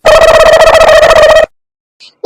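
A telephone in a Tamil cartoon rings loudly and close with a rapid, buzzing electronic trill that stops abruptly, followed by near silence and a couple of faint clicks.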